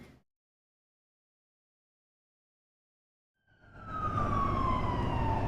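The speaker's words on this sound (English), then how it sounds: "Now, you may hear an emergency truck behind me right now." A fire truck siren wails and climbs in from the distance after a near-silent stretch, growing loud over rumbling traffic as the emergency vehicle passes along a street.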